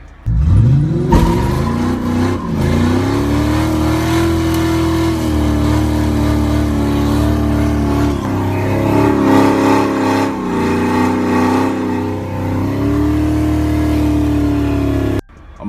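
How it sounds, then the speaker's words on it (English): The engine of a 1967 Plymouth Valiant idles close by and rises into several smooth revs, its pitch climbing and settling, before it cuts off abruptly at the end. "car's running good."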